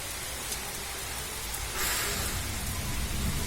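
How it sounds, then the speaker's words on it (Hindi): Steady rain falls in a continuous broadband wash, with a slightly louder, denser burst of drops partway through; no voices are heard. "बरसात हो रहा है"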